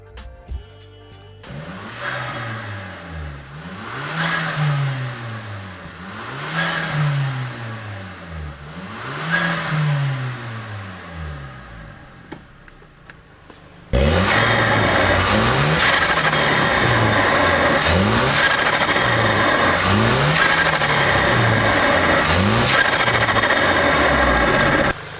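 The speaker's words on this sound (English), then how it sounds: "let me drop in a clip here of what it sounds like if you give it a few revs" A VW Mk5 GTI with a GFB DV+ diverter valve and the stock intake airbox removed revs repeatedly. Four distinct rising-and-falling blips come first, then a much louder, sustained stretch of revving continues to the end.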